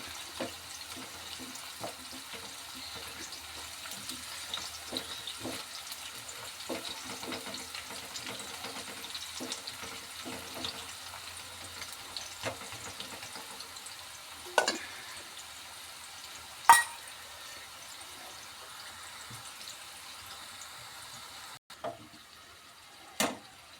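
Nendran plantain slices frying in hot oil, a steady crackling sizzle running throughout with a few sharper clatters and knocks near the end, no voices.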